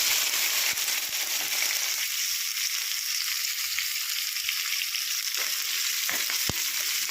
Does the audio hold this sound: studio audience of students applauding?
no